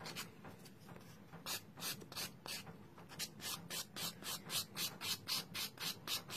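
Filing an acrylic gel nail with a moulded square shape gives quick rhythmic rasping strokes, sparse at first and then steady and close, with no talking.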